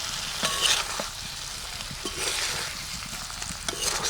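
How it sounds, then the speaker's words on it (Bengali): Fried potato, onion and bitter gourd are stirred in a pan with cooked spice paste, giving a steady sizzle with soft scraping and clinking spatula strokes, close up and with no voices. "সব ভালোভাবে মিশিয়ে নেব"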